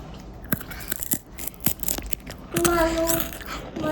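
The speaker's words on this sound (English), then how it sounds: "Listen to my crunch." Sharp, dry crunches of a homemade cheese cracker being bitten, several in a row, close up, followed by a brief higher tone and soft background noise.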